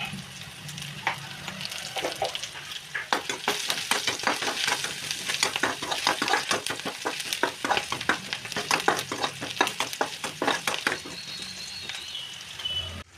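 Vermicelli upma stirred in a frying pan: rhythmic scraping strokes of a spatula run over a constant sizzle for several seconds, close and fairly loud, with no voices.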